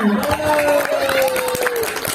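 A crowd at an Isra Mi'raj religious gathering at a prayer hall claps briefly, scattered applause mixed with crowd voices and a sustained tone underneath.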